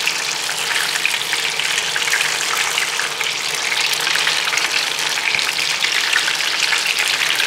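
Spring rolls deep frying in hot oil give off a loud, steady, dense sizzle and crackle that continues without pause and without any talking.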